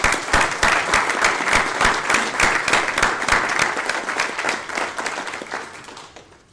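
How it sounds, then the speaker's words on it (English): A room full of people at a prison and school district board of trustees meeting gives a sustained round of applause to employees, dense steady clapping that holds evenly before tapering off toward the end. "could we also at this time give all of these employees a great round of applause?"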